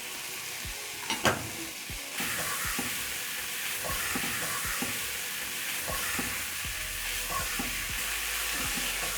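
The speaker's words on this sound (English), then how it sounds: "Stir in until everything is combined" Minced beef with thyme and diced tomatoes sizzles steadily in a hot frying pot, with repeated scraping stirs and clinks of a utensil breaking up the mixture, close and continuous.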